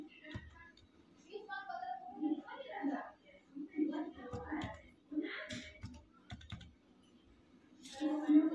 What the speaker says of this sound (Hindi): और अब मैं यहाँ पर ट्रांजैक्शन पासवर्ड भरूँगा